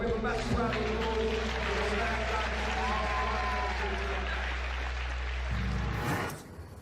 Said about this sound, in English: We have a massive round of applause.